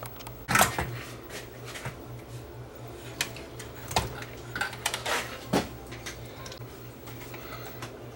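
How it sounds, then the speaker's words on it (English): A circuit board snaps into place inside an Onkyo Integra receiver, giving a sharp, close plastic click followed by a few lighter ticks and taps against a quiet background. "The board snaps in place."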